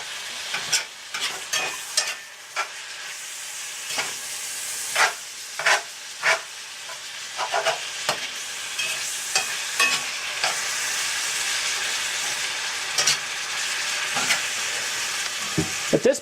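Grass-fed ground beef fries in a pan with a steady, close sizzle, broken by repeated scraping stir strokes and brief clatters of the utensil; no one speaks.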